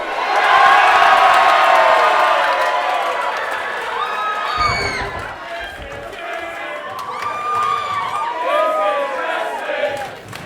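An independent wrestling crowd packed into a pub shouts and chants in loud, rhythmic bursts, with whoops and cheers rising and falling throughout.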